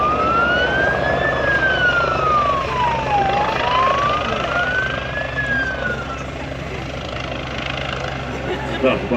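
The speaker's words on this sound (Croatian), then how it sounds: "Kakav bi to policijski helikopter bio da nema policijsku sirenu" A police helicopter at an air show in Varaždin sounds its siren, a loud wailing tone rising and falling over the steady rotor thrum, with an announcer speaking throughout.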